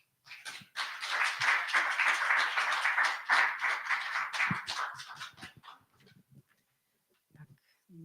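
An audience at a poetry reading applauds with a full burst of clapping lasting several seconds, then fading to a few scattered claps and quiet.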